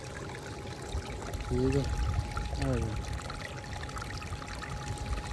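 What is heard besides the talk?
water from solar tube well flowing into pond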